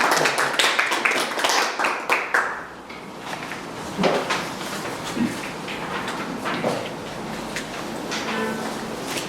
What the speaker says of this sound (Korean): 박수로 한번 빨리 주시면 감사하겠습니다